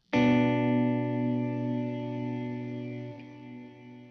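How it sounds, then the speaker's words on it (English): Guitar chord played through a Kemper Cirrus Reverb effect: a single struck chord that rings out with a lush, shimmering reverb tail, sustaining evenly and then dropping slightly near the end. "This new Cirrus Reverb is interesting."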